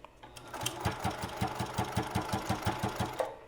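A home sewing machine stitches ribbon into a minky tag blanket, its needle thumping in a steady, fast mechanical rhythm of about fifteen beats, close and clear with no talking.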